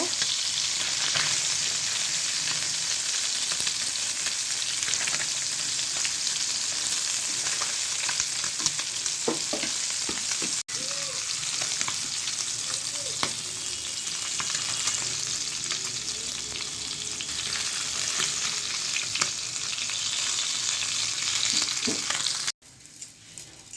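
Prawns fry in hot oil with a loud, continuous crackling sizzle that carries on for over twenty seconds, with occasional clicks of stirring and a sharp knock near the end.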